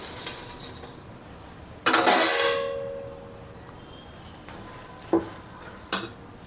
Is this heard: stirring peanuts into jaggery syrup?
yes